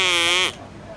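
A duck-lips novelty noisemaker gives one loud, brassy, buzzing quack lasting about half a second, then cuts off abruptly.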